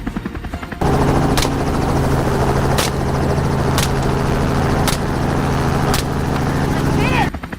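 A helicopter flies close overhead with a loud, steady rotor drone and regular sharp blade slaps about once a second, cutting in abruptly and holding for several seconds.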